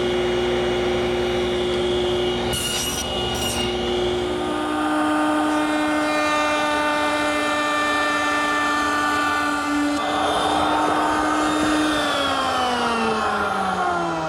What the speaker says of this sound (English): Now I've switched over to my tenon cutter to make the cheek cuts.